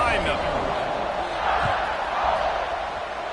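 Football stadium crowd waiting for the kickoff in a Marco vs Bama game, a steady broad roar of many voices throughout, loud and continuous with no single standout sounds.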